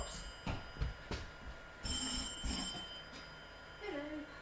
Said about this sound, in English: Every phone is ringing.